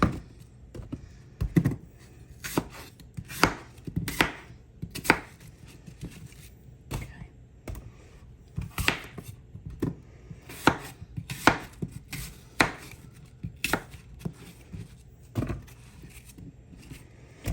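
A knife cuts food into wedges on a board, giving a long series of crisp, irregularly spaced chopping thunks, close and fairly loud, with no talking.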